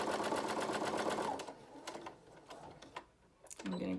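Sewing machine top stitching an eighth-inch seam around a fabric hair scrunchie, a steady fast whir for about a second and a half, then short stop-start bursts as the fabric is turned, ending with another quick run.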